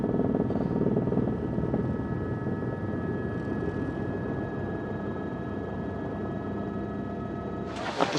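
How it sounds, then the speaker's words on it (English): Helicopter at a 2002 rally stage in France, a steady rotor and engine drone fairly close and continuous, with a thin whine on top and a brief clatter at the end. "Wait for a helicopter."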